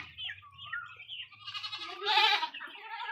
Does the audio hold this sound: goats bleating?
yes